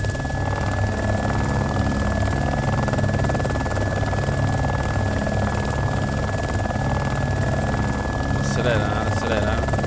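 A helicopter in the DayZ video game drones loudly with a steady, buzzing engine and rotor noise throughout, while a voice is heard at times over it.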